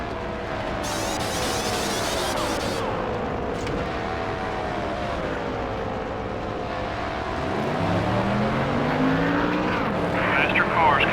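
Race car engines in NASCAR Thunder 2003 drone and whine continuously as cars circle the track, pitch rising and falling as they pass, with a deeper engine sweeping through near the end; a voice talks over the roar.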